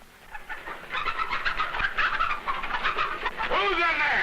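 Chickens cluck and squawk in a steady, busy stream, with a rising, excited run of calls toward the end, close and fairly loud.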